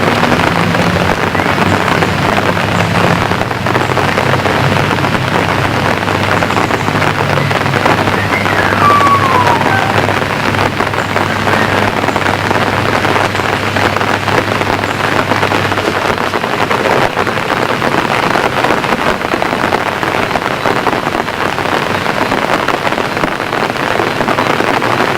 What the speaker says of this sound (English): As you can hear, the rain is still falling and not hard, it's just drizzling now.